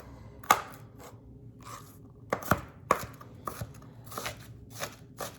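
Salmon being chopped by hand with a knife on a cutting board for morning salmon patties, a series of irregular sharp chops and thuds at close range, fairly quiet, with no voices.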